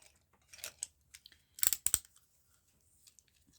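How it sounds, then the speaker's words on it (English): A craft knife cutting a small white space out of paper ephemera, heard as a few soft scrapes followed by a sharp burst of close slicing and snipping sounds, then quiet. "Just thinking I might cut out this little white space here."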